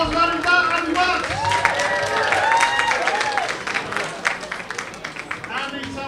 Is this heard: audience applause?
yes